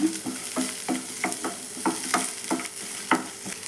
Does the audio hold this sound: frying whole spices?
yes